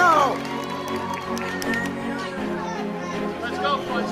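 A live crowd claps and cheers with chatter mixed in, egging on an elf named Randy to kiss an alpaca named Splash; the applause stays steady and fairly loud for the whole stretch, with voices calling out over it.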